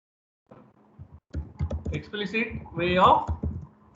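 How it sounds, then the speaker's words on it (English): Fast typing on a computer keyboard while entering code makes a quick, steady patter of close clicks, with a voice talking over it. "I'm just typing little fast"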